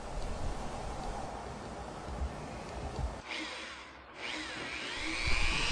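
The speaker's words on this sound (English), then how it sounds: "Drill out the stud holes first." A power drill grinds loudly through the sheet metal of a duct access door, drilling stud holes, the pitch dropping and rising as the bit bites, then whines up again near the end.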